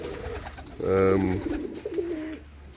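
A roller pigeon coos in a loft, giving one clear, fairly close burst of throaty cooing, followed by softer, shorter coos over faint background noise.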